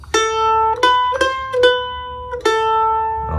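A mandolin playing a short shuffle lick with notes split across the beats, bright picked tones in a swung rhythm, about six plucks close and clear, ending with a soft strum.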